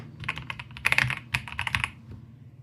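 Typing on a Hator Skyfall 80 TKL keyboard, a close, quick run of crisp key clicks in irregular bursts that trails off, with no talking.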